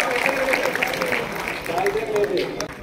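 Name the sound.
audience applause at a felicitation ceremony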